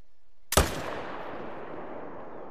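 A single loud AR .300 rifle shot rings out in a hunting video game, a sharp crack followed by a long decaying echo.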